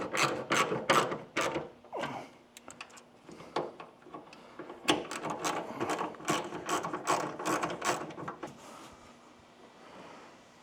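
Ratchet wrench snugging up a headlight mount on a Kubota L3301 tractor, quick close clicking strokes in uneven bursts that slow and fade toward the end.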